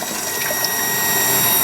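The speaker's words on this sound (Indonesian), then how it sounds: "pompa menjadi hidup terus-menerus karena aliran di sini sudah 3 liter per menit atau lebih ya" A booster water pump keeps running after the tap is closed, giving a steady, loud mechanical hum mixed with a faint watery hiss that stays constant through the short stretch with no talking.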